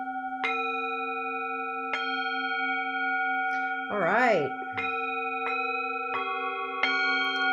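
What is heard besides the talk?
bells and singing bowls rung for energy work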